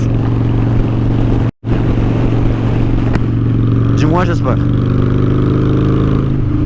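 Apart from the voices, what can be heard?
Honda Shadow motorcycle engine while riding in fourth gear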